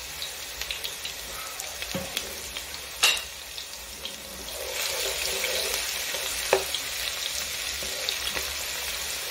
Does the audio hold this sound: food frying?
yes